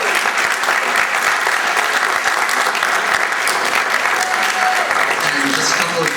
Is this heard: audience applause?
yes